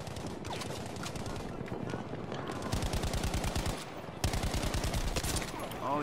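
Rapid automatic gunfire from a first-person shooter video game, dense repeated bursts with short pauses, fairly loud and continuous, with a voice talking over parts of it.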